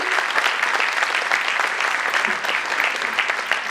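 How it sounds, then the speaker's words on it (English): A large audience applauds an honoured guest with loud, continuous clapping that stays steady throughout the few seconds. "Can we have a round of applause for him?"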